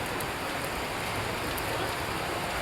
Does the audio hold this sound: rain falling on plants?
yes